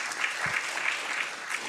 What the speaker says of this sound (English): Round of applause for the teams again.